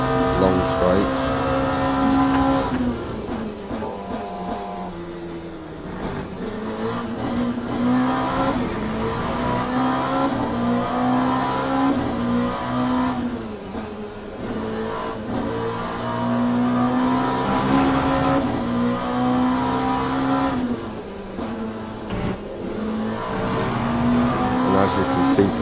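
Race cars in a racing video game accelerate down long straights, a loud continuous engine drone that rises and falls in pitch, with a person talking over it throughout.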